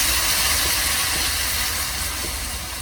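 Water poured onto frying spice paste in a pan gives a loud, steady hissing sizzle that holds close and even with no one speaking.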